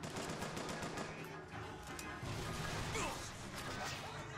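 Rapid gunshots from BioShock Infinite combat, a dense clatter of shots and impacts filling a few seconds, mixed with game noise.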